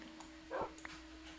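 A dog in Minecraft gives a short whimpering yip near the middle, faint and brief over a low game hum, with a couple of tiny clicks around it.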